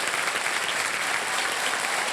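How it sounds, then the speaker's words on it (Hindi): A game show studio audience claps for a woman contestant, a thick, even burst of applause from many people at full volume throughout. "ताली बज जाए इनके लिए"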